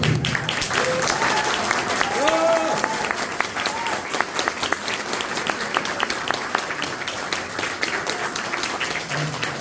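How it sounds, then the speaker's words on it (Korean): Audience applause at an award ceremony for a human rights prize: dense, sustained clapping from a large crowd fills the room, steady and loud throughout, with a voice briefly speaking over it. "박수 한번 주십시오"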